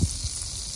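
Butter sizzles and bubbles in a pan on a stove, a soft steady crackling hiss that runs alone throughout with a few low bubbling pops near the start.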